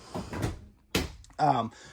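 A couple of massive drawers in a 2026 Ahara 380FL fifth-wheel RV slide and thump open, short scraping bursts with a brief pause between them, close by.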